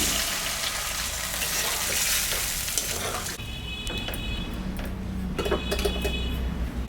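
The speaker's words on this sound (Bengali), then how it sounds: "মশলা কষানো হয়ে গেছে, এখন আমি সামান্য একটু জল দেব।" A little water goes into frying spice paste, setting off a loud, dense sizzle that fills the first half, then eases to a lower, crackling bubble with scattered clicks of a utensil.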